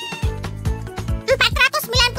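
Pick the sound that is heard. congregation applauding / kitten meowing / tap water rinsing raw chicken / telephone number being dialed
kitten meowing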